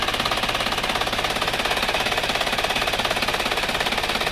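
An old, high-mileage car engine running cold and smoking gives a fast, steady mechanical clatter, rapid rhythmic ticking at constant pace and moderate loudness, with no talk over it.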